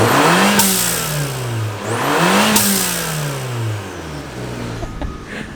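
A turbocharged car engine revs up and falls twice, and each drop in revs brings a sharp whoosh from the blow-off valve venting through an added MPX plate. The sound is loud and close.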